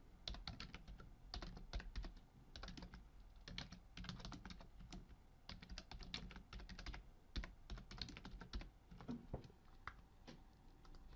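Fingers type on a computer keyboard in quick, uneven bursts of clicks. The sound is close and fairly quiet, with no talking.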